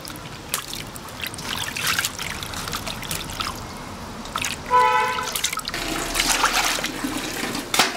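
Wood ear mushrooms are rinsed by hand in water, with close splashing, trickling and dripping, and a brief run of tap water partway through.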